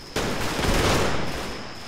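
Mortar fire in the WWII strategy game Combat Mission Battle for Normandy: a sudden loud blast opening into a dense, sustained roar of crackling explosions and gunfire that holds steady for over a second before easing off, no voices.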